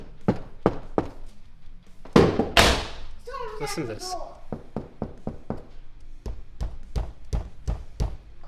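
Knuckles knocking on a sound-deadened body panel of a 1976 Chevy K5 Blazer lined with sound mat, producing a steady series of dull, close thuds, interrupted briefly by someone speaking.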